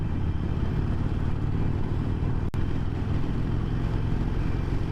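A Harley-Davidson Iron 883 motorcycle at full throttle, picking up speed with a loud, steady engine drone mixed with heavy wind rumble and a brief dip partway through.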